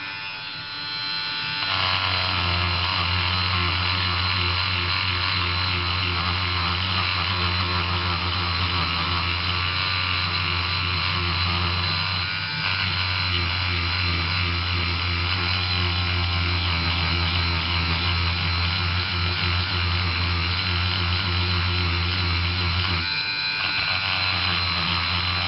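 A polishing wheel spinning at 15,000 rpm buffs a silver ingot, a loud, steady electric buzz that holds for over twenty seconds with slight dips where the work presses against the wheel.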